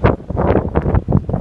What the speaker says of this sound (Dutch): Ik sta hier vol op de wind.